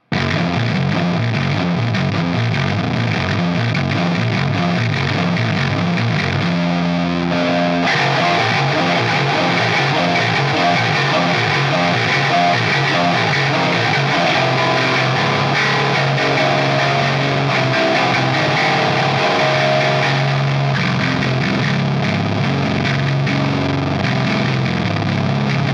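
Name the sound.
bass played as lead guitar through effects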